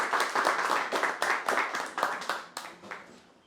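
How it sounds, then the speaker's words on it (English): Applause at a crypto panel event: a modest group claps in distinct bursts that gradually thin out and fade. "And so please give Victoria a robust round of applause."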